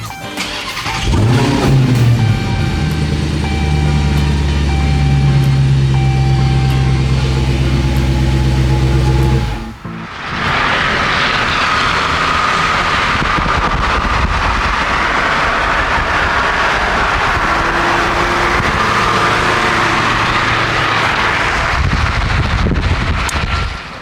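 A Dodge Demon 170 V8 engine fires up with a loud, deep cranking roar, then settles into a steady, loud idle that runs on without a break, heard up close under an open hood.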